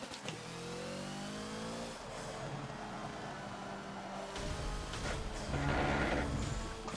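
A Ford Focus Hoonigan race car in the Forza racing game accelerates around the VIR Patriot track, its engine revving and climbing in pitch continuously and growing louder toward the end.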